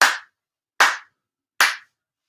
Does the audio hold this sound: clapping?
yes